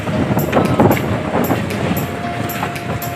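Strong wind blows on a fishing boat out on the open sea, a loud, steady roaring rush buffeting the microphone, with faint repeated rattling.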